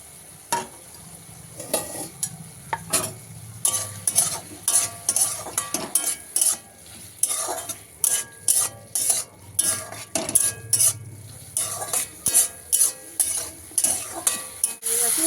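A spoon stirs cooked bottle gourd, flowers and amrul greens in a pan, giving a steady run of repeated scraping strokes over a low sizzle, close and fairly loud, with no talking.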